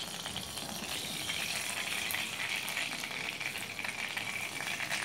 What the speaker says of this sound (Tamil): நல்லா கடுகு பொரியட்டும்